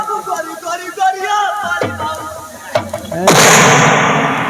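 Gunshots in a Hindi village drama about a cruel landlord: two sharp, loud bangs in quick succession followed by a heavier blast with a lingering rumble, over background music.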